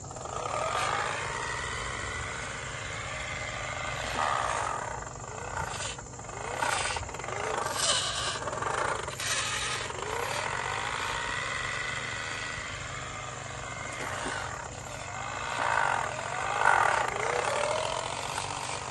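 A vintage 1/12 scale ASAHI Porsche 936 Group 6 RC racing car's electric motor and aged gears run steadily at moderate speed, a continuous whirring, ratcheting mechanical drone heard close and fairly quiet, with no engine sound.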